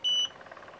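A facial chemical-peel treatment device switches itself on with one short, clean, high-pitched electronic beep, lasting about a quarter second, close and clear, followed by a faint hum.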